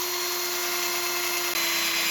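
An electric drill bores a hole through the middle of a workpiece for a tool-making job, giving a steady, close, continuous whine with one brief dip near the end, and no talking.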